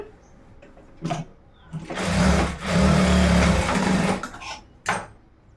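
Sewing machine stitching tucks into the back of a blouse in one steady, loud mechanical hum of a few seconds, with short clicks and handling noises close by before and after.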